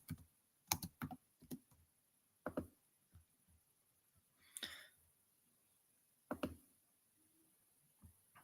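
Typing on a computer keyboard, quiet and close, in irregular bursts of clicking keystrokes separated by pauses.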